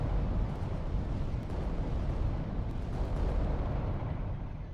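Weapons fire striking a Reaver titan in the Adeptus Titanicus: Dominus video game, a dense, continuous roar of blasts and rumbling explosions, loud and close with no pauses.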